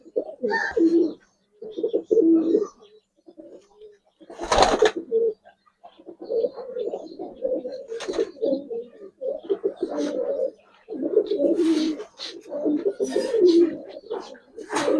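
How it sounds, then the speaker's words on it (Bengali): Giribaz pigeons coo nearby in repeated low, throaty phrases, loud and close, with brief sharp knocks and rustles between bursts of calling. "পুরান লাইনের একটা হেরিকেন কবুতর বলে, অনেকে খয়রা গলা বলে"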